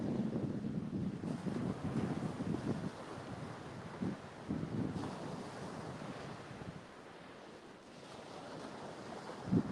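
Surf breaking on Panama City beach, a continuous low wash of waves with wind buffeting the microphone, moderately distant and steady with small swells in loudness.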